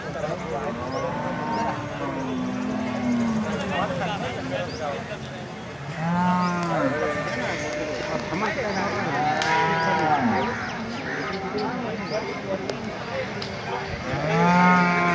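Cows and bulls moo repeatedly at the busy Loni cattle market, their loud, drawn-out calls rising near and far over constant crowd murmur and someone talking.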